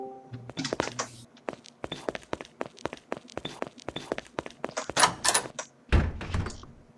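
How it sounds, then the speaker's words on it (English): Knocking on a door inside Garry's Mod, a series of sharp wooden thunks and raps in uneven clusters, with a heavier low bump near the end. "Knock knock."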